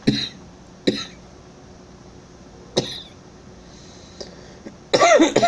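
Several short, sharp coughs spaced irregularly over a quiet background, close by, ending with a louder burst of throaty noise.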